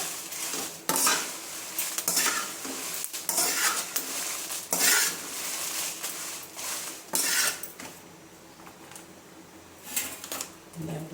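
Masala sautés on low heat in a pan. Repeated metallic scrapes and clatters of stirring sound up close over a soft sizzle, in uneven bursts with short quieter gaps.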